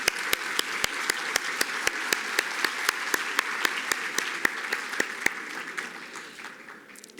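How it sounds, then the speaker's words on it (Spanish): Applause for judges and magistrates at a presentation on a legal reform bill, a dense steady patter of many hands with a few sharp individual claps standing out, fading slightly toward the end. "un aplauso para nuestros jueces y magistrados"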